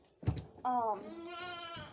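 A dairy goat bleats nearby, a short thump followed by a loud wavering bleat that trails into a second, longer drawn-out call, alone without talk.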